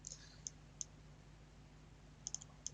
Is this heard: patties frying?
no